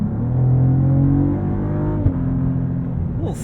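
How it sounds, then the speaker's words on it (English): A 2023 Cadillac CT4-V Blackwing sports sedan engine drones with steady revs, broken by a brief sharp exhaust snap on the upshift, then the engine pulls on. "A little snap on the upshift too."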